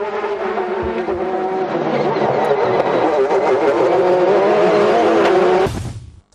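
A Porsche race car in a 2006 American Le Mans Series event drones loudly and close with a steady harmonic engine note, then fades and cuts off at the end.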